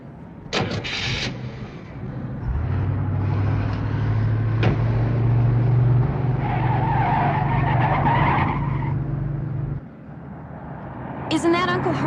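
A car driving hard and skidding, with an engine roar, a sustained tire squeal and a sudden drop before a final screech, while people talk and shout over it.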